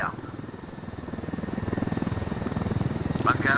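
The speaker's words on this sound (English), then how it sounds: "I've got a perfectly good chopper. Let's use it." A helicopter in the Ghost Recon video game thumps with a fast, steady rotor beat that grows slightly louder over a few seconds.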